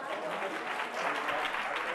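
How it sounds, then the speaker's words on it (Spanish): Crowd at an awards gala for a nativity scene and Christmas tree contest gives a warm round of applause, even continuous clapping at moderate volume with a faint murmur beneath. "Un aplauso muy fuerte para ella."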